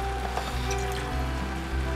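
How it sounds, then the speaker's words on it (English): Water is poured in a thin stream into a pan of sweetcorn and mushroom gravy, a steady close liquid trickle with a faint splashing hiss lasting the whole moment. "What you could do is add a teeny bit of water"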